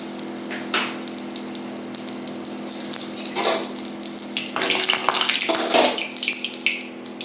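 Whole garam masala, cumin, bay leaf and dried chilli spluttering in hot mustard oil, a continuous hiss with bursts of crackling that swell louder toward the end, under a low steady hum.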